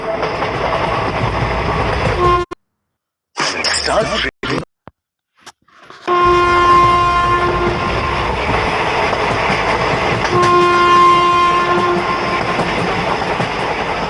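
An animated story's passenger train runs with a loud steady rumble and clatter, broken by a brief gap, then a sustained tonal horn blast sounds twice over the running noise.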